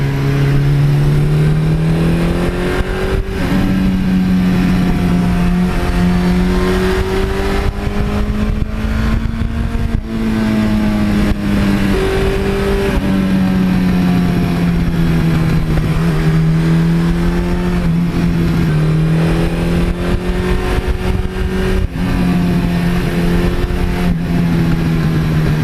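A Suzuki GS1100E motorcycle engine runs and revs steadily, its pitch rising and falling through repeated throttle blips, loud and close with no talk over it.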